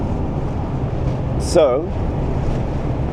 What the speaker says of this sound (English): It's very windy just now.